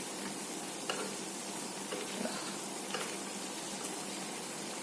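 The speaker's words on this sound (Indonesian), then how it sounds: "Nah, ini baru kita aduk deh." Fried tofu is stirred in a teflon wok over a steady, dense sizzle of hot oil, with faint scraping strokes of the utensil surfacing now and then through the frying noise.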